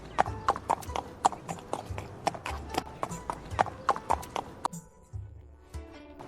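Cartoon horse hooves clip-clop in a quick, even rhythm as a prince rides toward a forest, loud and close, then stop abruptly near the end.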